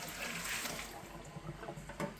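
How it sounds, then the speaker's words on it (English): Blanching water from peas drains away in a steady, close hiss and wash of pouring liquid, with a few faint clunks near the end and no talking. "I got rid of the blanch water"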